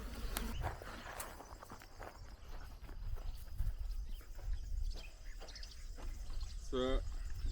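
Horses walking near a small shelter barn on an off-grid homestead in Portugal, soft hoof thuds and shuffling steps on the ground with outdoor noise and brief background voices.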